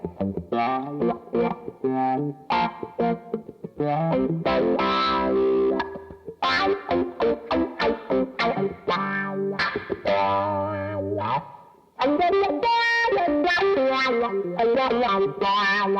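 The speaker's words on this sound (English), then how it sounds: "this is just a little bit of reverb and the wah pedal itself." Electric guitar played through a wah pedal with light reverb, a run of sweeping, vocal-like notes and chords, loud and close, without talk.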